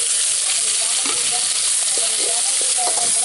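Tomatoes and onions softening in hot oil for a village-style catla fish kulambu, a loud, dense, steady sizzle close by with faint occasional stirring touches underneath.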